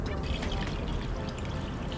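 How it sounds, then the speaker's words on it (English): Water pours steadily from close by into a stock pot holding raw chicken wings, giving a continuous splashing gush that lasts the whole moment without pause. "Now pour in enough water to cover up that chicken."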